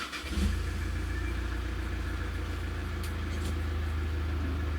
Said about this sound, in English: So we've started the car.